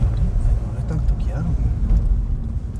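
Car driving along a mountain road at Monte Brè, Switzerland, heard from inside: a steady low engine and road rumble runs throughout, with people talking over it.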